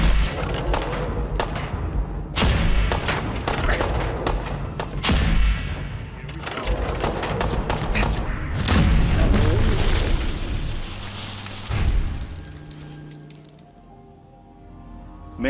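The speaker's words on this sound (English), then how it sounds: "This laser musket is one of our signature weapons in the game." A hand-cranked laser musket fires repeatedly during a Fallout 4 firefight, giving loud booming cracks in quick succession amid the chaos. A voice speaks between shots, and the noise fades to a quieter tail.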